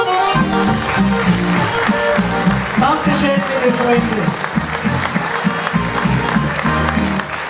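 Audience applause at a Bavarian Gstanzl and folk musicians' gathering: steady clapping from a crowd, with someone speaking over it and some music in the background.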